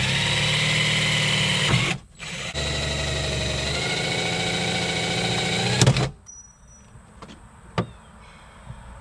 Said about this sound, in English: I'm just gonna take my drill, press it up in here and drill it out